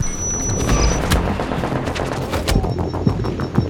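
A bomb explodes in The Division video game during an apartment firefight, its heavy booms mixed with dense, rapid gunfire bursts that stay loud and steady for several seconds.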